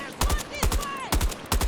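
Gunfire in the video game Battlefield 6, four short bursts of loud close shots spaced about half a second apart, with game sound effects between them.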